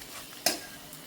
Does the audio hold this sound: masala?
yes